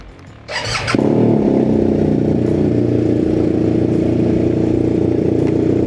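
A BMW R1250 GS motorcycle with a Vance & Hines exhaust cranks briefly on a cold start, then fires up and settles into a loud, steady, rumbling idle up close, with no talking.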